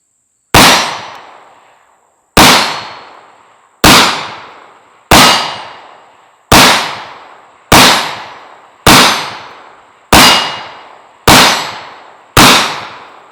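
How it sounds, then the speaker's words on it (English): Ten sharp, loud pistol shots from a Rock Island Armory 1911 firing 22 TCM rounds ring out at an even, unhurried pace, each crack ringing briefly before fading, with no talk between them. "this is going to be the first 10 rounds of the 22 TCM through the Rock Island Armory 1911"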